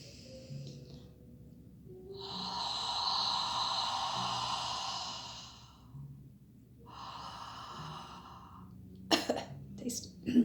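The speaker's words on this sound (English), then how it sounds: "So Ujjayi sounds a bit like Death Vader." Ujjayi yoga breathing, a hoarse, throaty breath drawn in and let out through a constricted throat, two long rasping breaths close up, followed by a few short sharp noises.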